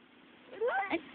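A cat gives one short, close meow that rises and falls, heard alone against a faint background hiss.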